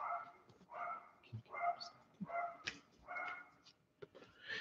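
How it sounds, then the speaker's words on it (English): Several dogs bark excitedly indoors, a run of sharp repeated barks and yips at an uneven rhythm, fairly close and loud against a quiet room. "my dogs are going crazy"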